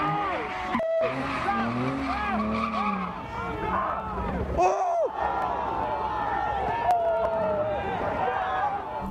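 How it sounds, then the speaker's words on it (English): Cars race and burn rubber at a street takeover in an industrial area, with long tire squeals and revving engines over a crowd's shouts, and people talking throughout. "Groups meet up in isolated areas to race, burn rubber, and demonstrate the capabilities of their cars."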